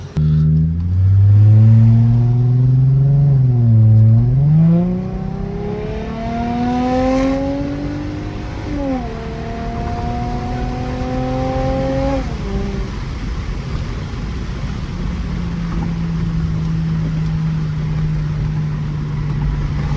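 A Mercedes C300 (W204) engine heard from inside while driving, revving up through gears with rising pitch, then settling into a steady lower hum as it cruises.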